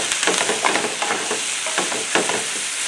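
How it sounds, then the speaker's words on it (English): Steak-umm sliced meat frying in a pan while being stirred, a close continuous sizzle broken by repeated soft scraping strokes of the utensil, with no talking. "We'll give this a stir and see where we're at."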